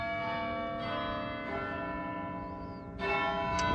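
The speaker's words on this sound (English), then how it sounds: "That's the bell. It's called Big Tom." Big Tom, the great bell of Lincoln Cathedral, rings out with a deep, sustained tone full of lingering overtones. A fresh strike near the end renews the resonance, heard alone at a moderate distance.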